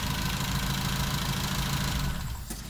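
Car engine idling steadily under an open hood, a close, continuous low mechanical hum with a faint rhythmic knock throughout.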